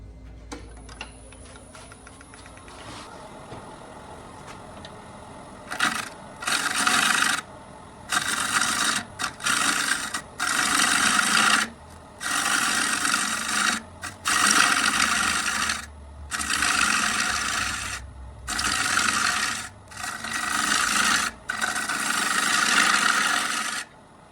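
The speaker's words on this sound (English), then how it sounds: "Let's see if we can get in there with a bowl gouge and finish that up." A half-inch bowl gouge cutting into a wood burl bowl spinning on a lathe, repeated loud scraping cuts of a second or two each in a steady rhythm, separated by short pauses, with the motor humming beneath.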